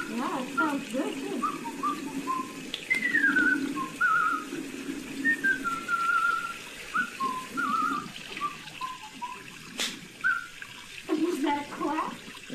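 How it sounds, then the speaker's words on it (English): A person whistles a melodic tune in short, wavering phrases with a few pauses, fairly close, over a steady watery background like a running tap. "Whistling your tune?"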